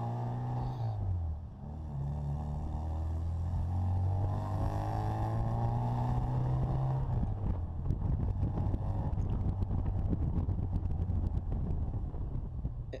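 A Bugeye Sprite sports car on the move, its engine note climbing steadily through the revs, then a rougher, louder drone heard from inside the car with buffeting wind noise.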